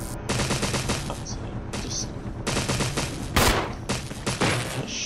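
Rapid bursts of automatic gunfire in the video game Resident Evil ring out, several sustained volleys separated by brief pauses, loud and close, with one sharper heavy shot partway through.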